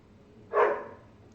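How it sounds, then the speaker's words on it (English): A single bark from dogs outside, somewhat distant and muffled, rises over a quiet room background. "the dogs are outside, but they're barking"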